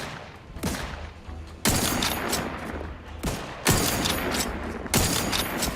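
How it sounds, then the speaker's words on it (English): Sniper rifle fire in The Outer Worlds 2, four loud, sharp cracks spaced about a second or two apart, each trailing into a long noisy echo and rumble. "This sniper rifle's awesome"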